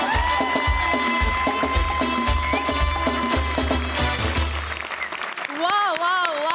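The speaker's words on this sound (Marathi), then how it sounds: "जोरदार टाळ्या." A studio audience claps loudly during a Marathi comedy show, steady dense applause running for several seconds alongside a bright musical sting and voices, then trailing off as a rising tune plays.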